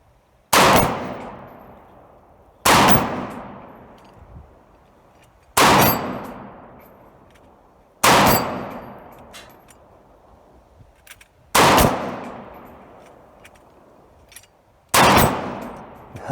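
Seven loud shots ring out outdoors at steel spinner targets, Lollipop and Superhanger-LD ST7 types, spaced a few seconds apart. Each crack is followed by a metallic clang and a fading ring.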